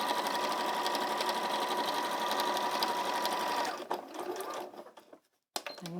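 A sewing machine quilts stitches through fabric and deep wadding, running fast and steady as a close mechanical whir, then breaking into short stops and starts before a brief silence.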